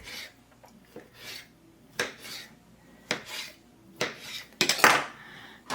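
A knife slicing rolled cinnamon roll dough in a baking pan, a series of separate scraping, clinking cuts against the pan at an unhurried rhythm, close and fairly quiet with no talking.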